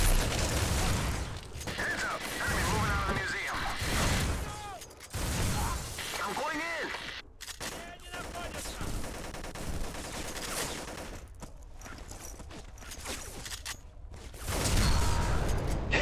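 Shotgun fire in the video game Black during a city street level, heavy booming blasts in quick bursts with shattering debris and mechanical clatter, dense and loud with short gaps between volleys.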